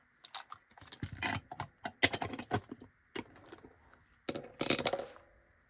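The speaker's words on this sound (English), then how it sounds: "Let's do a 10-sided dice." A ten-sided die clatters and skitters across a hard surface in a series of quick rattling taps and tumbles, close and fairly loud, with short pauses between bursts and no talking.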